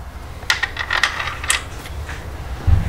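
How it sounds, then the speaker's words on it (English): Metal bolts clink and tap into an aluminium oil filter housing on a BMW 335i N54 engine during a leak repair, a few sharp close metallic ticks and rattles spaced over a quiet background with no talk. "Now I'm just gonna start putting the bolts in."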